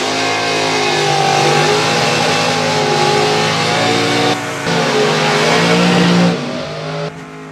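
Race cars running at the Santa Pod drag strip: a loud, sustained engine roar with rising and falling harmonic revs, steady for several seconds and then easing off near the end.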